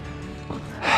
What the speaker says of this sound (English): Both panting.